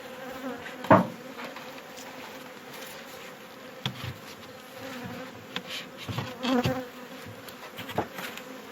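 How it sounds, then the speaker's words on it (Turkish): Honeybees buzz faintly around hives as they are moved to a new spot, a low steady hum broken by scattered close knocks and clatters of the hive boxes. "Arılarımızı yeni yerine alıyoruz."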